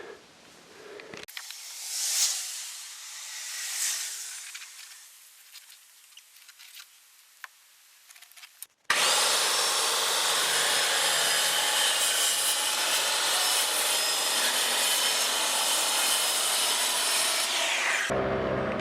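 Hand sawing through a 2x4 wood board to trim it level on a shed wall, with scattered rubbing and scraping at first, then a steady, dense rasping that runs close and loud for about ten seconds before stopping.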